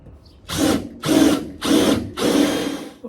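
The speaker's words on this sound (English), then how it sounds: "now it's time for the step drill." A step drill cuts a hole in a VW Beetle door for a passenger-side mirror, four loud, close bursts of grinding whine with short pauses between them.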